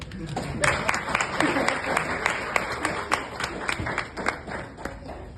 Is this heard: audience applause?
yes